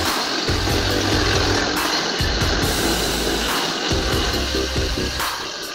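A FLEX jigsaw fitted with a metal cutting blade runs with a loud, continuous buzzing drone, its low hum shifting slightly in pitch as it cuts.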